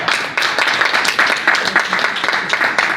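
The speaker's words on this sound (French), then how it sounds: "si vous voulez bien les applaudir tous les trois" An audience bursts into dense, continuous applause at a neighbourhood presentation event, loud and close, with many hands clapping at once for a few seconds.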